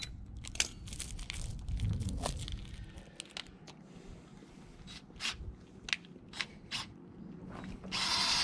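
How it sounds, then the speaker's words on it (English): Power drill boring into a Dana 60 axle part, intermittent whirring bursts with sharp clicks and scraping in a quiet workshop, stopping and starting over several seconds. "that means I can drill that one deeper"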